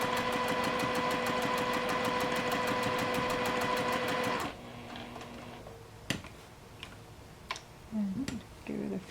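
A sewing machine stitches appliqué in a rapid, steady run of needle strokes for about four and a half seconds, then stops, leaving quiet handling clicks and a few soft knocks.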